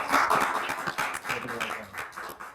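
An audience claps briefly at an art talk, a scattered patter of hand claps mixed with some murmuring voices, fading out after a couple of seconds.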